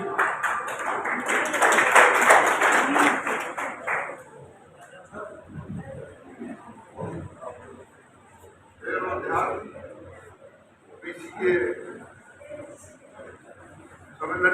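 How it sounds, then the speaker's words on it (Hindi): Audience applause at a district Congress committee OBC department divisional conference in Udaipur, a loud burst of clapping lasting about four seconds before a speaker's amplified voice takes over. "तालियों में कोई कमी नहीं रहे"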